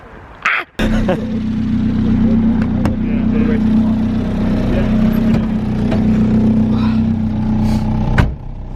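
A Mk1 Ford Fiesta fitted with a swapped Honda VTEC engine pulls away after a short knock, its engine droning loud and steady from inside the cabin with a faint rattle before a sharp clunk near the end.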